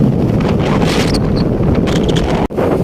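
Strong wind buffets the microphone on a ride home along the Corniche in Doha, a loud continuous roar with gusty fluctuations and a brief dropout near the end.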